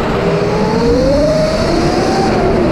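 A Surron electric supermoto bike whines upward in pitch as it races past at speed on a karting track, loud and continuous over steady road and wind noise.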